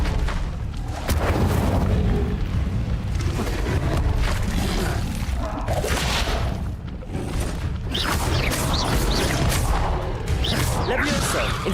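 Spell effects from the Hogwarts Legacy video game, with Incendio fire casts during the Trials of Merlin: repeated booming bursts and crackling whooshes, loud and layered over continuous game action, with a voice speaking spell names.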